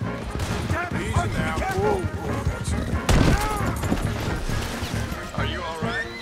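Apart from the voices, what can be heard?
gunfire in Red Dead Redemption 2 video game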